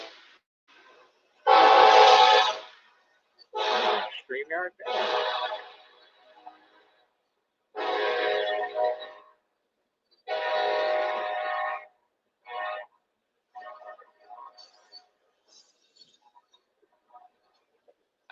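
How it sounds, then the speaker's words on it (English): Train passing near the Delphi bridge area, sounding loud, drawn-out horn blasts in separate bursts of a couple of seconds each, with quieter gaps between and fainter trailing honks toward the end. "you're gonna hear trains."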